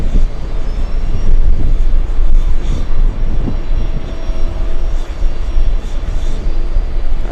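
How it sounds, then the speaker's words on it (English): Gusty afternoon wind blowing outdoors in New York, a loud, close, continuous low rumble buffeting the microphone, swelling and easing in uneven surges throughout, with no voices. "The wind is gusty this afternoon."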